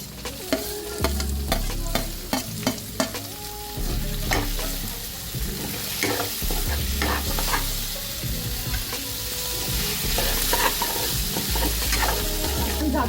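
Finely chopped onion fries in a hot pan, giving a loud, continuous sizzle with frequent stirring scrapes, heaviest in the first few seconds.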